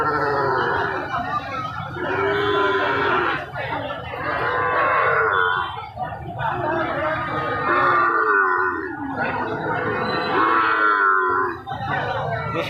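Cattle, bulls and calves at a busy cattle market, with repeated loud bellowing moos rising and falling over a constant crowd murmur and scattered animal calls, close by and layered with people talking.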